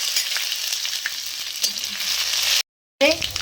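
Cumin, curry leaves and garlic paste sizzle loudly in hot oil in a pan, a steady bright crackle, broken briefly by a short silence near the end before the frying resumes.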